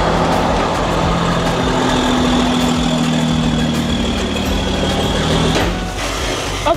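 A big truck rumbles past very close on a narrow street in Haiti, its loud engine droning steadily for several seconds with a low hum and brief changes near the end.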